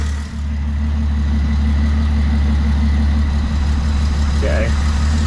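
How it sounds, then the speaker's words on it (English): A 1995 Jeep Wrangler 4.0 engine idles with one fuel injector disconnected, giving a loud, close, steady low rumble with a regular pulsing beat, and a brief faint voice near the end. "I'm listening for a change in engine tone when I disconnect one of these injectors."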